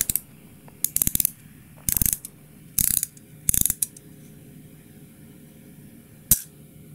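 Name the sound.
winding spring motor of wooden model car, ratchet mechanism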